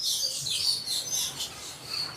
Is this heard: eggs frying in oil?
no